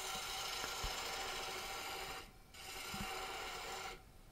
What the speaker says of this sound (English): I'm using the ball gouge